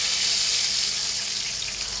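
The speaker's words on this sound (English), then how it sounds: "Love that sizzling sound, do you hear it?" Steady, dense sizzling of thin bacon slices frying in a pan, a bright continuous hiss with no pauses, close and fairly loud.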